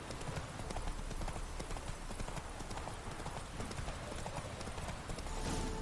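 Rapid, loud hoofbeats of Roach, the horse in The Witcher 3, pound in a fast continuous gallop during a race, with a brief whinny-like sound amid the dense clatter.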